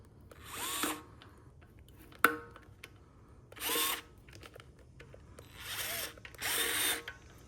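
A power drill drives screws into a battery box skin, firing in several short close bursts of whirring with a sharp click in between and quiet pauses.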